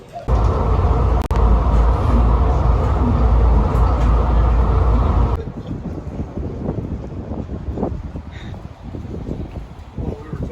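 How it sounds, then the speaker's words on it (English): A loud, steady rumble inside a train heading into town in Canada, with a wind-like roar for about five seconds, then cutting to quieter, busier background noise. "I'm getting the train into town"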